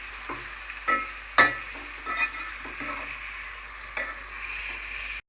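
Chicken for biryani fries in a pan while being stirred, a constant sizzle broken by several distinct scraping and clinking strokes of the spoon, close and clear with no voices.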